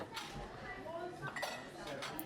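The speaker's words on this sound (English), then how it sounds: "hearing the sounds of the coffee maker and other sounds in the cafe" Dishes and cutlery clink softly in a cafe, scattered light chinks over a low murmur of indoor background chatter.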